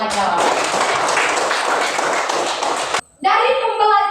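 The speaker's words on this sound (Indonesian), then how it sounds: "Tepuk tangan untuk semua jawaban." A classroom of children claps hands together for several seconds, a busy close burst of clapping that stops abruptly, followed by a voice speaking.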